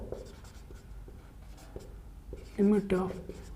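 Pen scratching across paper while notes are written on a stress–strain diagram, soft scattered strokes under a voice speaking throughout.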